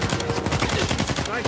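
Gunfire in Uncharted 4 rattles fast and loud, a dense run of close shots filling the whole moment with no pause.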